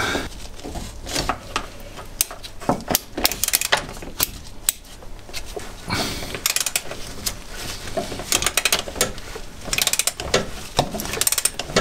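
Ratchet wrench with a universal-joint extension working a fastener underneath a Ford Mustang, giving irregular bursts of close, sharp mechanical clicking with brief pauses between strokes and no talk.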